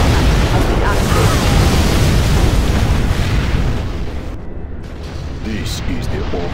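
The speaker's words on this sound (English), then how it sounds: "Our Scud Storm has been launched" Scud Storm missile strike in C&C Generals Zero Hour, Apocalyptic mod: a loud, sustained roaring blast that rumbles on, eases off, then swells again with scattered secondary booms.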